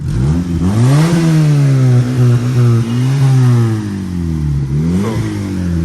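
A 25-year-old Honda City petrol engine revs up and down several times close by, its pitch rising and falling in loud throaty surges.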